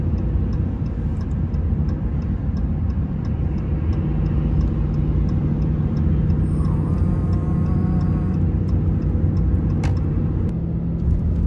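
Steady low road rumble from a vehicle on a riverside road, continuous and close throughout with a faint ticking, no distinct passes standing out.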